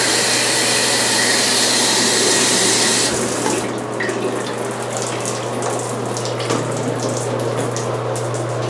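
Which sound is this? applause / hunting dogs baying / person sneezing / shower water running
shower water running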